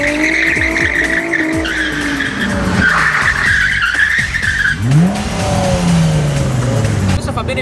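A drift car slides through a run at a drifting school, its tires squealing loudly and continuously while the engine revs and surges close by, the screech dropping in pitch as the slide unwinds.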